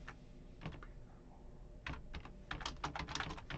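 Bursts of keystrokes on a computer keyboard, quiet and close, clustered in short runs of clicks with brief pauses between them.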